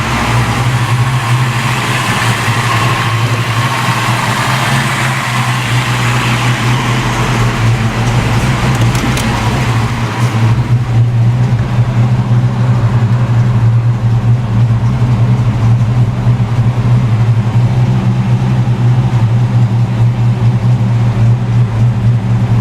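A Fox body car engine, being checked for a bad fuel injector, idles steadily and loudly with a constant low rumble and no talking throughout.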